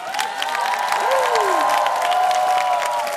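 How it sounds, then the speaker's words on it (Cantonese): Audience applause and cheering for Hong Kong PolyU freshmen at a 2011 joint-university mass dance, a dense, sustained crowd roar with claps that holds steady throughout, thin tonal whistles riding on top. "俾啲掌聲，今年 Poly 嘅 Freshman"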